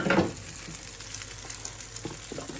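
Thin pancake batter frying in a hot pan gives a steady, close, soft sizzle, with a brief louder scrape or stir at the start and faint clicks through the rest.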